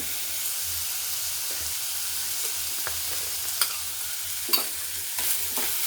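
Ginger garlic paste fries in a pan with a steady close sizzle and hiss, while a few sharp scrapes and clinks from stirring poke through near the end.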